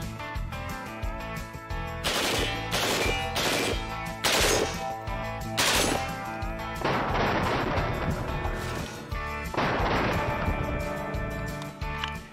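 Loud, sharp bursts of NCR Service Rifle gunfire from the Fallout video game, several closely spaced shots with echoing tails over a dense game backdrop.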